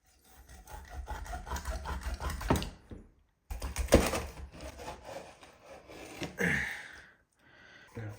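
Knife cutting through a large grilled salmon with bone, a close rasping, sawing scrape in two bursts separated by a short pause, followed by a brief softer scrape.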